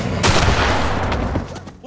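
Gunshots ring out in the horror video game The Quarry, a loud sharp blast followed by rapid rattling fire that trails off over a couple of seconds.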